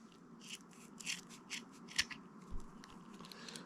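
Small scissors from a multi-tool snip through cheap craft cord cut to length for a kumihimo snake whip, a quiet series of about seven or eight crisp, close cuts spaced unevenly.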